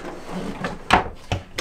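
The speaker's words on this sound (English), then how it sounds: "the pull-out drawer" A pull-out drawer on a 2019 Hanse 418 yacht slides open with a short rolling rumble, followed by a few sharp clicks and knocks from its plastic fittings, heard close and fairly quiet with no talking.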